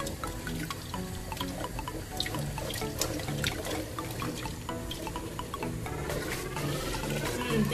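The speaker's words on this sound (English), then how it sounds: "Add water, hot water to the soup." Hot water poured into a pot of thick egusi soup to thin it, a steady, continuous splashing stream that stays close and even throughout with no voices.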